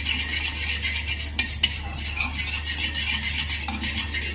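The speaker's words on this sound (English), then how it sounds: "take your curd, maybe half a cup, beat it up" Curd is beaten in a bowl for Maharashtrian kadhi, producing brisk, continuous close-up whisking and scraping with a few sharper clinks against the vessel over a low steady hum.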